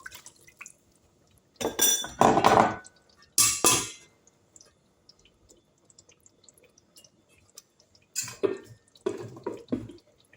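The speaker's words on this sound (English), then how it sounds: "I'll be adding a little more water in." Water is poured into a simmering beef tomato sauce in a pot, heard as short splashy bursts with clinks of a pan in between and quiet gaps, near and fairly faint, with no talking.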